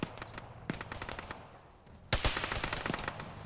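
Rapid bursts of automatic gunfire in the military shooter game Arma, a fast rattling string of shots, a brief lull, then a louder, closer volley.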